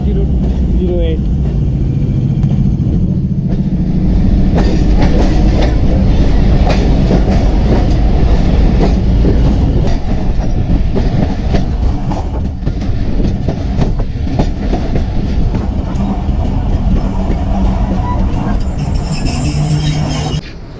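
A train runs on rails between Darya Khan and Taxila, its steady loud rumble and clatter of wheels filling the whole stretch, with a voice talking over it.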